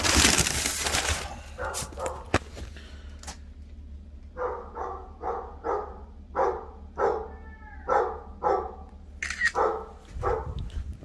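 A small, friendly pup barks from inside a house as a food delivery reaches the door, about a dozen sharp, muffled barks in a steady rhythm heard through the closed door.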